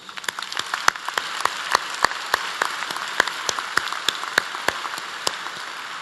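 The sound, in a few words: commencement audience applause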